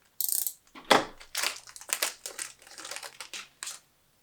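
Foam packaging around 3D printer parts (Duex5 board, BLtouch, Orbiter extruder) crinkles and scrapes as it is cut open, a series of close, irregular rustling and crunching bursts separated by short pauses.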